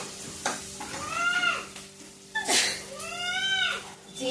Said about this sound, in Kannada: ಈರುಳ್ಳಿ ಫ್ರೈ ಆಗ್ತಾ ಉಂಟು.